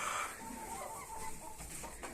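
A chicken clucks quietly amid faint background noise, its short calls close by but soft.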